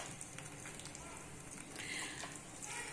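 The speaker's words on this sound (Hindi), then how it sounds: "यह मैं शिमला मिर्च को डीप फ्राई कर रही हूँ" Bell peppers (shimla mirch) deep frying in hot oil over a medium-low flame give a steady, close crackling sizzle that runs throughout with no talk.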